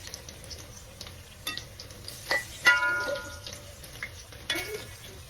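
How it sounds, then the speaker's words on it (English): Food frying over medium heat in a pot while baking tilapia fish, a soft continuous crackle and sizzle with scattered clinks and small pops, moderately close and fairly quiet. "So you want to fry with medium heat."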